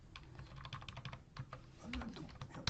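Close, quiet typing on a computer keyboard, a fast uneven patter of key clicks lasting a few seconds with no talk.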